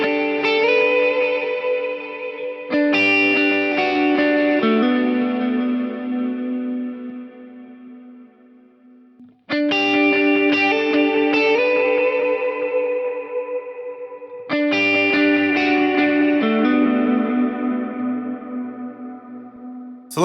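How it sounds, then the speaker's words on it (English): Electric guitar played through a Fractal Axe-FX III and an FM3 with a Plexi 1987x amp model, cloud and plex reverb algorithms: three strummed chords ring out with long shimmering reverb tails, each decaying before the next strum. "Here you're going to hear the difference between the XFX3 using the cloud reverb algorithms and then the FM3 using the Plex verb algorithms."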